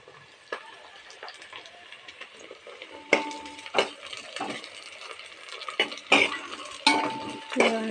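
Onions frying in a pan for radish thokku, heard as a quiet sizzle with sharp metallic clanks and scrapes of a spatula against the pan, growing busier and louder toward the end.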